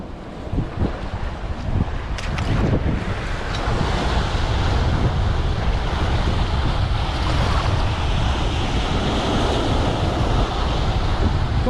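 Sea waves breaking on a rocky Jeju shore during seaweed gathering, a loud continuous wash of surf mixed with strong wind buffeting the microphone and no talk.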